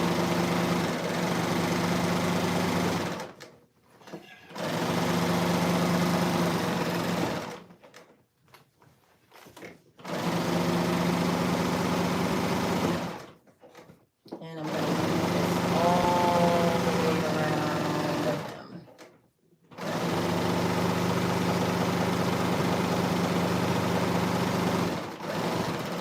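A sewing machine stitches the final seam of a homemade trench-style jacket in several loud bursts of several seconds each, separated by short pauses, with a person talking at times between runs.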